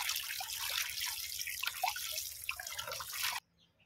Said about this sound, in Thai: เดี๋ยวมาล้างน้ำให้สะอาดก่อนเนาะจ้า